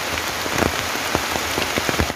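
Steady rain patters on the ground and leaves in a nature park, a dense close hiss of drops with no voices.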